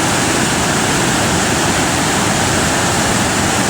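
Kpatawee waterfall's powerful rushing water roars close and loud, a dense, unbroken wash of sound with nothing else heard.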